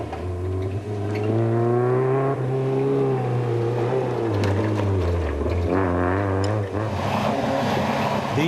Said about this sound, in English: Anthony Taylor and Robin Houghton were on a charge in the factory Castrol Toyota